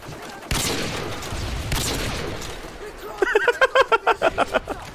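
Video game gunfire during a 360 no-scope trick shot: a couple of sharp shots early on, then a rapid run of about a dozen evenly spaced bursts, loud and close.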